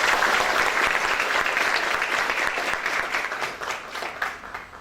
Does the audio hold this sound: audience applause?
yes